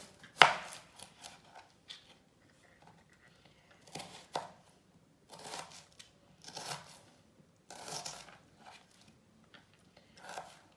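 A knife chops onion finely on a board in short bursts of rapid crisp taps separated by pauses, fairly quiet and close.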